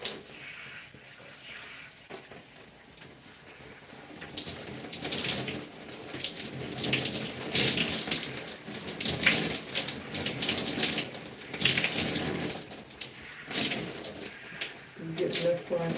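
Tap water runs and splashes while curly hair is rinsed out, a soft rushing flow that swells louder midway and fluctuates with the movement of hands and hair, with a person speaking quietly over it at times.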